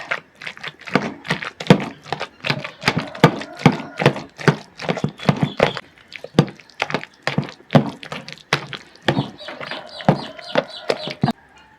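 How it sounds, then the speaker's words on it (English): A whisk knocks and scrapes rhythmically in a bowl of guacamole with pepper, a fast run of close, irregular clacks and thuds. "I'm going to be mixing this up. I'll go in with my whisk"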